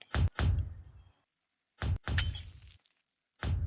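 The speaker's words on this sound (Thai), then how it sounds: "ตอนนี้กระจกก็ได้แตกแล้วนะครับ" Two loud, sharp shattering impacts of an axe breaking a bank safe-box glass panel, each followed by a short tinkling spill of shards, with a third strike starting at the end.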